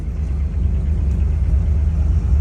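A muscle car engine idles with a steady low rumble, close and fairly loud, with no talk over it.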